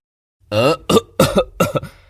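A man lets out a burst of four harsh, throaty coughs in quick succession, close and loud, then silence.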